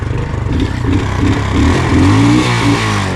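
An Alfa Romeo car engine, recently revived after a seized motor, starts and revs roughly and loudly, its uneven idle rising into throaty revving close to the microphone, with no talk.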